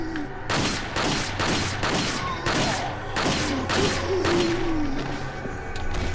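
Rapid, loud gunshots in the video game Resident Evil 4 ring out close in a quick uneven volley of about a dozen sharp cracks, with faint game sounds beneath.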